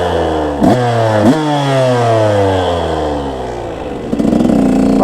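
A KTM 150 SX two-stroke dirt bike with an Electron Pro Series 38 carb revs hard twice, then its engine note winds down slowly before a rattly blip near the end, loud and close.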